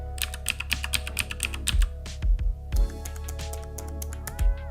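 Keys clacking on the keyboard of a 2016 Razer Blade Pro laptop with a GTX 1080, a quick run of light taps that turns into a few heavier, spaced strokes over a steady low hum.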